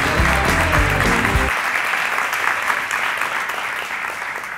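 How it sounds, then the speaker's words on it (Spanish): A university lecture audience applauds loudly and steadily from the start, dense clapping continuing throughout, with a brief burst of low music or rumble at the very beginning before fading into sustained applause. "aplaudan un poquito más"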